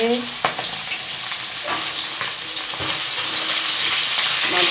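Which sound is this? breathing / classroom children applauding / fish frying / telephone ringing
fish frying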